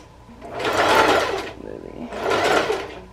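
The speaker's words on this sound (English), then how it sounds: "right now I'm literally just sewing my clippers." Sewing machine stitching hair wefts for a pixie wig, running in two close bursts of steady whirring with a short pause between them.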